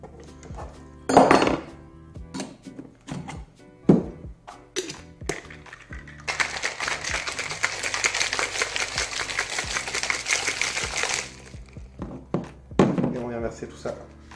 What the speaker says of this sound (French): On ajoute une cuillère de glaçon dans le shaker